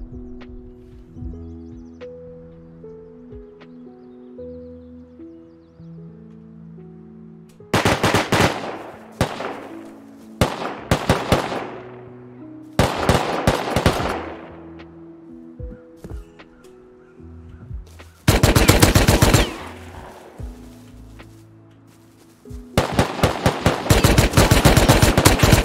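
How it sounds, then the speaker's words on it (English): Video game gunfire crackles in several distinct bursts of rapid shots, distant yet loud against a quiet, humming ambient background, with the last burst running to the end. "I started to hear some gunfire in the distance"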